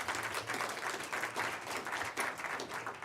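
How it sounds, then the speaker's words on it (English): Audience applause for the Southern Oklahoma Memorial Foundation at a Murray State College media announcement, a steady, dense burst of many hands clapping in a room, with no talking. "How about a round of applause for the Southern Oklahoma Memorial"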